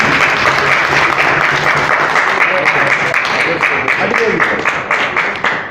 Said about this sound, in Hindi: पूरे सदन से भी थोड़ी सी गरिमा चाहूंगा कि आप ताली बजा के जोरदार स्वागत